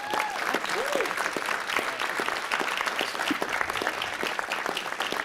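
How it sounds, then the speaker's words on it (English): A room at a city council meeting fills with steady applause, many hands clapping at once with scattered whoops and voices mixed in, sustained at moderate loudness throughout. "Can we give her a big round of applause?"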